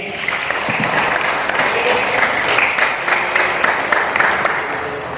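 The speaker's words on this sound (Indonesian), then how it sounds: "Tepuk tangan untuk kalian." Applause for students at a Hindu religious talk at a vocational high school, a steady broadband clapping that holds evenly for several seconds with faint voices mixed in.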